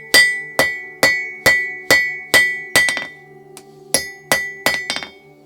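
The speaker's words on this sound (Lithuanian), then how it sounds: "Dar paplokštinu." A hammer strikes a metal hinge on an anvil to flatten it, ringing clinks in a steady series of about a dozen blows, with a short pause partway through.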